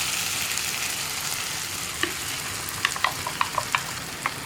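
Ground masala paste stirred into cooking tomatoes for drumstick masala, a low steady sizzle, then a series of sharp spoon clinks and scrapes against the pan in the second half.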